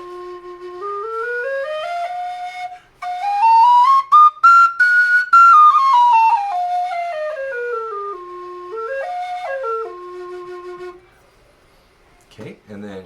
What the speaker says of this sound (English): It's one of my favorite carbining whistles.